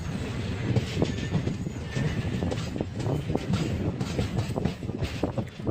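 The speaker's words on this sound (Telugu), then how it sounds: "ట్రైన్ కూడా స్పీడ్ మంచిగా పోతుంది" A passenger train runs on the rails between Srinagar and Baramulla through farmland, with a steady rumble and a rhythmic clatter of wheels that stays close and continuous.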